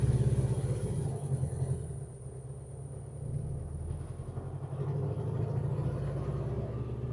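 A 1968 VW Beetle on its first drive in 21 years, its air-cooled engine a steady low rumble heard from inside, dipping briefly around a gear change and then rising again.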